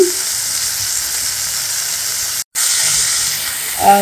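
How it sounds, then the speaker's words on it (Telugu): Masala-marinated pieces fry in hot oil over a high flame, giving a constant close sizzle and hiss, broken by a very short silent gap near the middle. "వీటిని అయితే మనం హై ఫ్లేమ్లోనే ఫ్రై చేసుకోవాలి."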